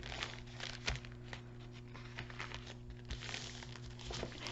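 Paper coffee filters crinkle and rustle as they are folded by hand for a craft project, soft close handling sounds with a few sharper creases over a faint steady hum.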